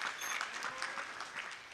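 A crowd at a saints' gathering claps for eight revered holy men, a dense, even burst of applause heard from within the audience.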